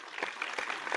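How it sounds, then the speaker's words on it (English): Soft, distant clapping from a small group, a light patter of a few hand claps lasting about a second, faint and muffled. "The clapping is so funny because it's so soft in the background."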